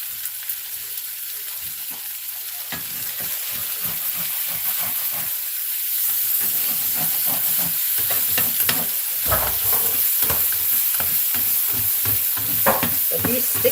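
Ground beef sizzles and crackles in a frying pan while breakfast burritos are cooked, with steady frying hiss throughout and sharp scraping and stirring knocks growing busier toward the end.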